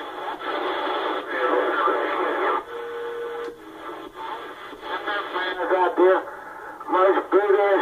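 A CB radio base station, a Uniden Grant LT with an Antron A99 antenna and a power mic, receives AM channel chatter: band-limited, crackly voices and static hiss drifting in and out, with a brief steady tone near the middle.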